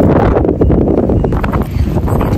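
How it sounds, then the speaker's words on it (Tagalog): Strong wind buffets the microphone with a continuous low, gusty rumble and roar, loud and close, with no clear voices. "Alakas ng hangin guys."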